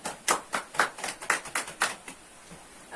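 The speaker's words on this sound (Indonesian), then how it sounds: "tepuk tangan untuk Rika" Applause in a classroom for a student: a handful of distinct, fairly close hand claps in an uneven rhythm, about ten sharp strikes over a few seconds with no talking.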